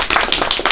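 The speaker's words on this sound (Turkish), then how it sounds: "Alkış!" Brief burst of close hand clapping from a small group at a village gathering, quick irregular claps, loud and near.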